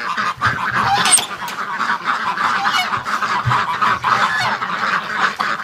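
A crowd of domestic ducks and geese honk and quack loudly and continuously, close by, as they are let out of their pen.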